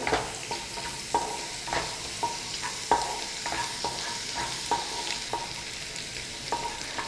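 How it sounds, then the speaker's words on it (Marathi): Ginger and garlic pieces fry briefly in hot oil in a pan, with a soft continuous sizzle broken by regular metallic taps and scrapes of a stirring spoon. "अद्रक लसणाचे तुकडे घालायचे आहेत आणि याला एक अर्धा मिनिटच फ्राय करायचं आहे"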